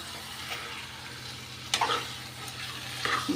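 A spoon scrapes and clinks a few times while stirring arbi (taro root) curry in a pan over a soft, steady hiss, with faint isolated knocks against the metal.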